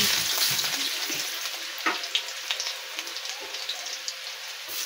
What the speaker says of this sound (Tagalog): Yan, ilaglag ko na yung garlic.